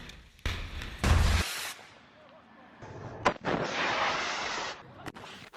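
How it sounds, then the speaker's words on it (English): Gunfire and artillery ring out during fighting in Khan Yunis, Gaza, where Hamas fighters with rocket launchers clash with Israeli soldiers. Several irregular bursts and sharp cracks, some long and rolling, fall between quieter gaps at a moderate distance. "Hamas fighters armed with rocket launchers exchanged gunfire with Israeli soldiers on the ground throughout the day"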